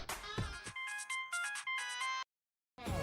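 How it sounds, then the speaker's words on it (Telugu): A phone rings on an outgoing call, giving a bright melodic electronic ringtone in several repeated bursts, close and clear, followed by a short silence before a voice begins. "రింగ్ అవుతుంది."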